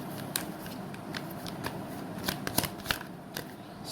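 A deck of tarot cards is shuffled by hand, a close run of quick riffling flicks and soft slaps with several sharper snaps near the end, with no talk.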